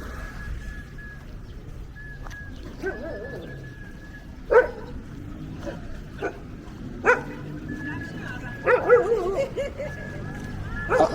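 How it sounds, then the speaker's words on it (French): Guard dogs at a construction site in Abobo bark and yip in scattered bursts at a moderate distance, with whimpering and birdsong amid outdoor street ambience and someone talking nearby. "Pour les travaux là, ils ont dû mettre des chiens de garde là-bas."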